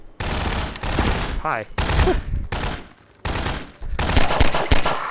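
Rapid bursts of SMG gunfire in Half-Life 2 played in VR, loud and close, coming in several separate volleys with brief gaps between them, while a voice briefly speaks over the shooting.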